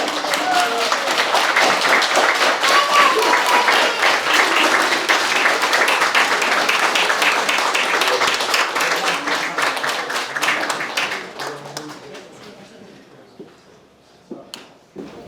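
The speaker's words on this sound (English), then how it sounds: "Applause again." Wedding guests applaud at the reception. The dense, steady clapping starts loud and close, thins out and fades after about eleven seconds, and a few scattered claps remain at the end.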